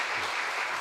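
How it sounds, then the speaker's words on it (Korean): A church congregation breaks into applause to welcome a visiting pastor, a brief dense burst of many hands clapping together, even and moderately loud. "큰 박수로 함께 좀 모시도록 하겠습니다."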